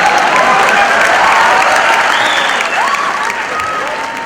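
Audience at a Kathiyawadi Gujarati comedy show bursts into loud, dense applause with crowd noise, holding steady and then slowly fading over a few seconds.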